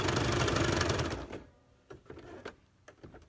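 Sewing machine stitching face masks at home, a dense rapid mechanical chatter for about a second and a half that then stops, leaving a few soft clicks and handling noises.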